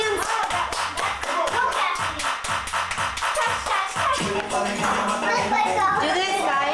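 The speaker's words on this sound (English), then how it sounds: "Clap your hands." Children clapping their hands at home, a steady run of sharp, close claps that keep going, with voices talking and calling out over them.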